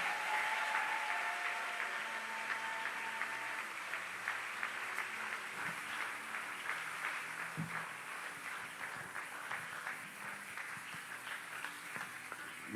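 A church congregation applauds together, a dense, steady wash of many hands clapping that carries on for several seconds at an even level, with faint voices mixed in.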